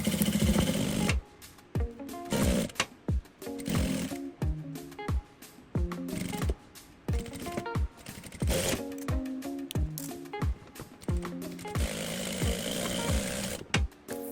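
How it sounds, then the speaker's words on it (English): A sewing machine top-stitches straight down a trouser fly zip, running in loud bursts of rapid mechanical chatter broken by short pauses and clicks, close and without talk. "I'm going to sew, top stitch it straight down"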